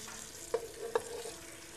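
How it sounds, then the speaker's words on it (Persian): Fried eggplants tipped into a pot of hot oil and turmeric for eggplant haleem give a soft, steady sizzle, broken by two sharp clinks against the pot. "بادمجونایی که سرخ کرده بودیم و داخل قابلمه‌مون میریزیم."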